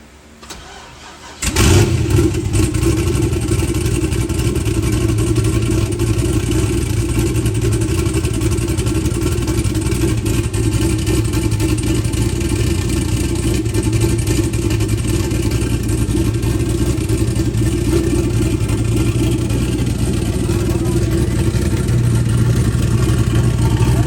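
A car engine fitted with a 1000hp turbo kit cranks and fires up, then settles into a loud, steady, rough idle that runs on close by for over twenty seconds with no talking.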